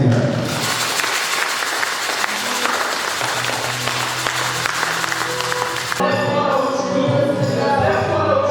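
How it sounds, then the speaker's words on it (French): A church congregation applauds and cheers, a steady wash of clapping and voices filling the room throughout, dense and sustained. "Acclamons le Seigneur."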